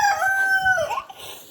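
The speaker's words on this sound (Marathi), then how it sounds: "तर ते 3 कोंबडे ओरडत आहेत." A pet rooster crows once, close and loud, in a long drawn-out call that breaks and falls at the end. No voices are heard.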